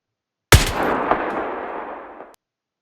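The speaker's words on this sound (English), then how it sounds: "Then I'm going to shoot the last bullet." A single sharp gunshot from a Sword Art Online–style video game gun, loud and sudden, followed by a long decaying reverberant tail that cuts off abruptly.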